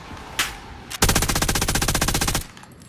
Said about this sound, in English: There's people shooting from across.